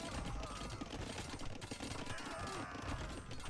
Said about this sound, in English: Hand cannons will be shooting them as well